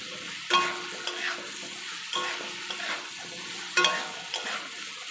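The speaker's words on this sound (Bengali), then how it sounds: "দিয়েছি হলুদ, লবণ, আবার বেশ খানিকক্ষণ কষিয়ে নেব" Vegetables sautéing in a pan with turmeric and salt for Bengali shukto, giving a steady sizzle with several sharp scrapes of a spatula against the pan, evenly spaced and close.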